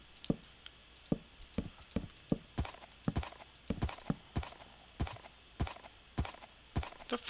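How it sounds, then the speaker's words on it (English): A horse clip-clops steadily in a Minecraft game with the Industrial Craft 2 mod, its hooves making crisp, evenly spaced knocks close by, with a faint whinny among them and a quiet background hum. "The fuck is this horse doing?"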